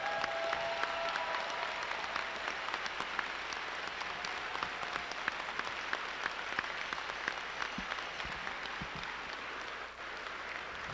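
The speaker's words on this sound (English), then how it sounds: "Let's thank the volunteers with a loud round of applause for all their work on our behalf" Sustained applause from a large audience, steady clapping filling the space without a break for about ten seconds.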